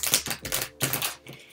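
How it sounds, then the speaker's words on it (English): Tarot cards are shuffled close up, two quick bursts of rapid crisp clicking and flapping, like a riffle, with a brief pause between them. "so I'm gonna shuffle these cards"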